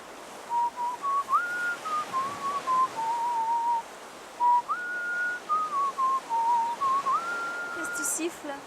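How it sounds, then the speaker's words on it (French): A lone person whistles a wandering melody in clear, sustained tones with short pauses between phrases, close and fairly quiet against a faint background hiss. "Qu'est-ce que tu siffles?"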